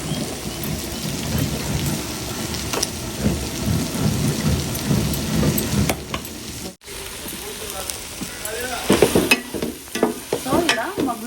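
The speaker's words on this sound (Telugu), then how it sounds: "సో ఇలా మగ్గుతుంది కదండి." Goat tripe curry cooks in a pan with a rough, bubbling, crackling simmer and frequent stirring scrapes, loud and close, with a brief dropout in the middle.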